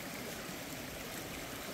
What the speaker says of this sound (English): we got a creek over here to our left